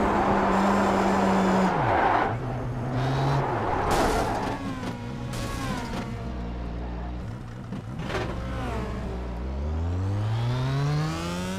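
Pro Mazda open-wheel race cars at Monza in the iRacing simulator, engines revving loudly with rising and falling pitch through gear changes and other cars passing close by, continuous throughout.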